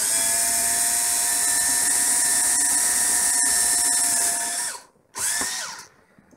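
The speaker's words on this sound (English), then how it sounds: "Drill the holes." A power drill whines steadily at high speed drilling holes for a cable clamp for several seconds, then stops briefly and spins up again in a short burst, close and loud.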